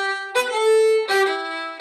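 A short hornpipe phrase is played in a straight dotted rhythm rather than swung, with two clear sustained notes and sharp note onsets, close and fairly loud.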